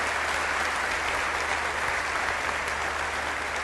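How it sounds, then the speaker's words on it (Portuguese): An audience at a gospel gathering applauds in a steady, dense burst of clapping that fills the whole moment without letting up. "E agora um aplauso para todos os países das 3 Américas e América do Norte, América do Sul, América Latina."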